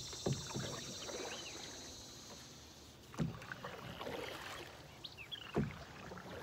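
Paddle strokes splashing and knocking against a Sun Dolphin American 12 jon boat, a few distinct dips spaced seconds apart over quiet outdoor ambience with birdsong.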